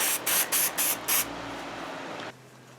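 Five short, loud bursts of aerosol spray paint hiss in quick succession as a replica part gets a silver coat, followed by a softer steady hiss that stops abruptly.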